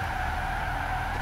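A car braking hard and skidding in the racing game Forza Horizon 2, a steady loud tire squeal under the engine drone, continuous for the whole moment.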